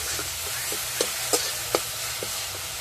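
A spiced mixture of ground cumin and garam masala sizzles softly in a pan while a spoon stirs it in a few sharp, irregular scrapes and taps. The sound is close, and nobody speaks.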